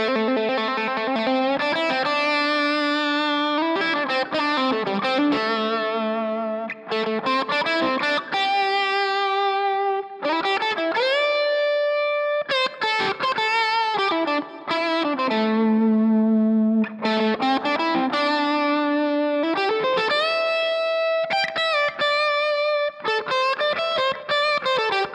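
Distorted electric guitar runs through flowing pentatonic licks, bending and sliding notes in continuous phrases with short pauses, loud and close with chorus-like effects.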